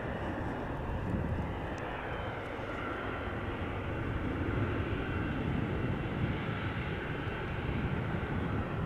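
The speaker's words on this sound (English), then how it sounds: "The United Triple making its way over to the runway threshold, where the A330 is currently arriving." An Airbus A330 airliner arriving at Amsterdam Schiphol Airport gives a loud, steady broadband jet roar that fills the whole clip without pause, with no voices.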